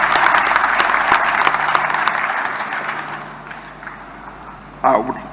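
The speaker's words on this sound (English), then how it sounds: "Please applaud yourselves." Members of political parties at a South African election results announcement clap in a loud burst of crowd applause that gradually fades away, with a voice briefly speaking near the end.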